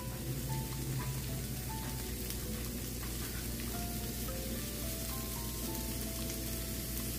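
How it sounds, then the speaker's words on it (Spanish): Potato slices frying in a pan for a Spanish tortilla, a constant close sizzle and crackle with no talk. "Las extendemos en todo el sartén y vamos a dejar a que se doren."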